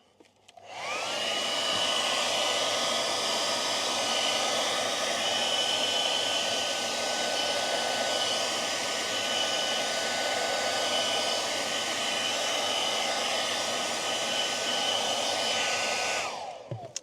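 A hot air blower runs steadily for about fifteen seconds, warming aftermarket performance brake pedals for a BYD Seal; a loud, even whooshing roar with a faint whine, starting and stopping abruptly, with no talking.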